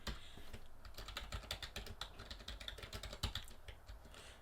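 Fast, close computer keyboard typing, a dense run of crisp key clicks with a few heavier strokes, heard alone in a quiet room while code is written.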